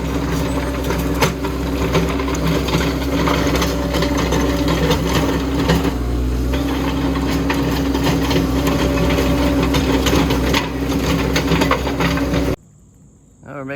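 A Cat 247B compact track loader digging a trench, its engine droning steadily close by with clanking and rattling on top, then cutting off abruptly near the end.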